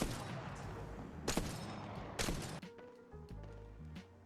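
Two loud gunshot bursts ring out over a dense, noisy firefight in Apex Legends, then the din drops away to softer thumps and faint tonal game effects.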